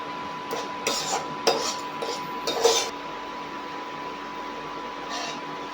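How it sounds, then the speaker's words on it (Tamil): A spoon scraping and clinking in a pan while pumpkin halwa is stirred, a few short quiet scrapes in the first three seconds over a low steady background hum, then near-silence. "நல்லா கிண்டி கிளறி விட்டுக்கிட்டே இருக்கும்"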